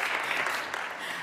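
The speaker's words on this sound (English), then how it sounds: "Let's give him a round of applause." Brief burst of steady, dense audience applause in a hall during a climate action event in higher education.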